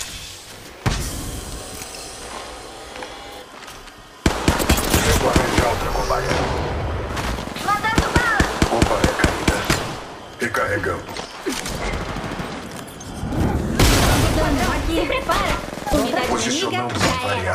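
Gunfire from the mobile shooter Apex Legends Mobile, played as Caustic: dense bursts of rapid shots and impacts spread through the clip, loud and close, with a speaking voice running over the action.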